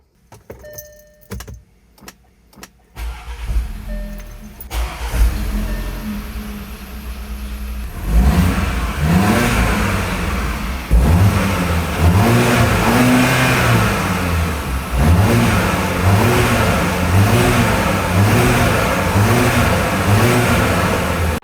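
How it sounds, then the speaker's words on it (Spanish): An Audi Q5 turbo engine with a freshly replaced timing chain: first keys jangle and clicks sound, then the engine cranks and catches, settles into a steady idle, and is blipped in repeated rising-and-falling revs, loud and close. "Este motor turbo está vivo y ahora con la cadena nueva, funcionando con la sincronía perfecta sin ningún riesgo"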